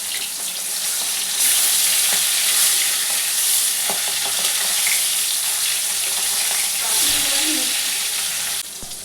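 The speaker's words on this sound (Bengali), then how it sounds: "প্রথমে বন্ধুরা মাছটা ভাজতে দিচ্ছি" Fish frying in oil in a home kitchen for a curry, a loud, bright, continuous sizzle with some faint stirring scrapes. The sizzle drops off abruptly just before the end.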